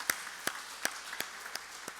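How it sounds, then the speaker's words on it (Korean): Applause from a church congregation during a Sunday service, heard as a handful of separate claps spaced about every third of a second, moderately close and fairly faint. "우리 박수로 한번 격려합시다"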